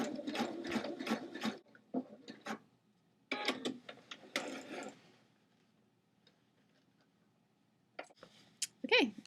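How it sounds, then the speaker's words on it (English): A sewing machine stitches along the hem of black jeans in short bursts separated by quiet pauses, running fairly close by with no talk over it. "we're just going to stitch right along the edge all the way around"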